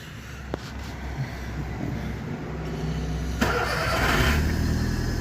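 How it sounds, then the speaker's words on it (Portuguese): A Volkswagen Gol's engine turns over and settles into a steady idle, then the revs rise near the end. The engine noise is continuous and close, with no talk over it. "Vou ligar o carro aqui agora."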